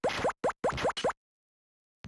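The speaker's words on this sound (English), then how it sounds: "This sound, you hear this whoop, that means you're losing some health." Four quick rising whoop tones from the Amiga game Titanic Blinky, played on a MiSTer FPGA, signal lost health; the bursts come in a fast cluster, loud and alone, followed by silence and a brief final blip.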